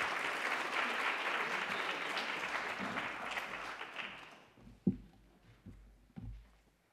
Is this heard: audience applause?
yes